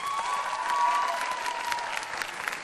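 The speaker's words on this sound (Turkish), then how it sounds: "Peki Çabi daha iyi Türkçe konuşuyor diyenler bir alkışlasın." A studio audience on a Turkish TV show gives a short burst of steady clapping that holds for a couple of seconds at moderate volume.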